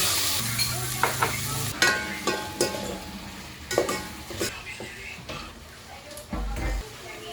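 Onion and corned beef sauté in a very hot casserole, a steady sizzle under repeated scraping and clanking of a utensil stirring against the pan, with a voice talking intermittently.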